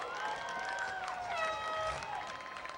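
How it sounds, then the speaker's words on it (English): A crowd at Midvale Speedway's Night of Destruction event applauds faintly and from afar, a low bed of clapping and cheering beneath drifting whistle-like tones. "Give him a big round of applause."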